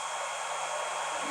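A B1 laser engraver's motion system running across a newly extended work area, giving a steady, continuous whirring hum with an even tone throughout, close by and alone with no talk.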